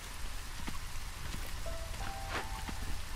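Steady drizzling rain in the video game Against the Storm, a continuous soft hiss of drops pattering on surfaces, with a faint tonal chime rising briefly over it.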